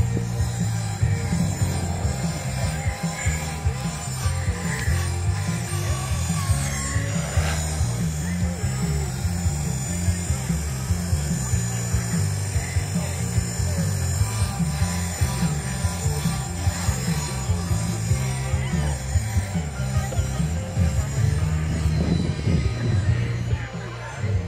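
Align HK450 scale RC helicopter in flight, a continuous buzzing rotor and motor drone with a fluctuating throb, steady and fairly loud throughout.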